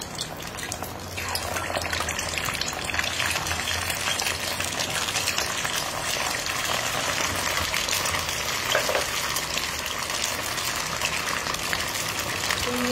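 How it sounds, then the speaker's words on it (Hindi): Pieces frying in hot oil in a pan, a loud, continuous crackling sizzle that swells after the first second and stays steady throughout. "यहाँ पे फ्राई हो रहा है, आप देखेंगे"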